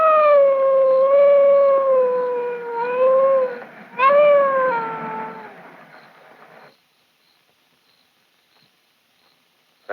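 A dog howls from the next yard in a 1945 Dick Tracy radio drama, several long wavering howls, loud and fairly close, that break off and leave silence.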